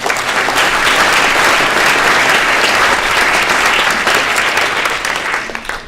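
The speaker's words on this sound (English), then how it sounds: "can I have a warm round of applause please for David" An audience at a science talk on quantum levitation gives a warm round of applause, steady dense clapping from many hands lasting several seconds before tapering slightly at the end.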